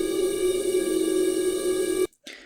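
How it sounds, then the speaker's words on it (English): A sustained, shimmering metallic wash of cymbal noise held by a reverb freeze, stretched out steady and unchanging, then cutting off abruptly near the end with a brief faint tail. "this is like cymbal noise"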